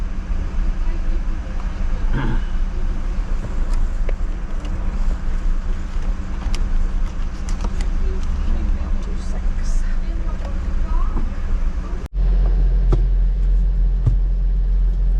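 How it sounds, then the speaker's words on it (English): A heavy lorry idles beside a car in a ferry queue in Normandy, giving off a steady low rumble that runs the whole way through, with wind buffeting and an abrupt shift in tone near the end. "Very rumbly lorry beside us here."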